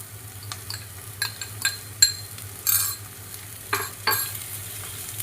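Finely chopped cabbage for green pav bhaji fries in a pan, with a soft steady sizzle and a low hum, broken by several sharp clinks and scrapes of a spoon stirring against the metal.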